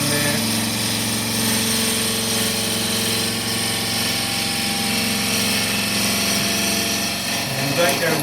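A woodturning gouge cuts a wide-rimmed dish on a lathe, giving a steady, continuous broadband rasp over the motor's low hum for the whole stretch, fairly close and even in level.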